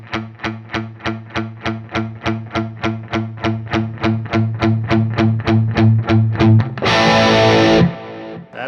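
Electric guitar through a Metro-Plex MK II 100W amp with the gain rolled up, loud distorted chords chugged in a steady rhythm of about twenty repeated strums that grow thicker, ending in a held, noisy ringing chord.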